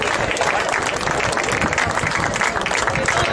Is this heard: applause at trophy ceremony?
yes